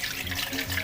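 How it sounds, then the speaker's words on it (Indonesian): Rice-washing water poured out of a rice cooker pot while preparing nasi liwet: a short, close splash of running water, alone, with no talk. "Kita buang airnya."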